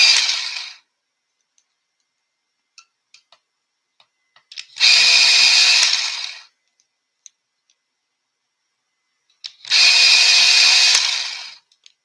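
Electric pencil sharpener grinding a colored pencil in three separate bursts, each a few seconds long, with faint clicks and taps between them in an otherwise quiet room.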